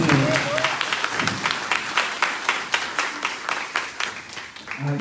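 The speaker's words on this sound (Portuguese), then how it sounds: "Pode aplaudir o" A church congregation applauds during a prayer service, sustained clapping filling the space with a few voices mixed in.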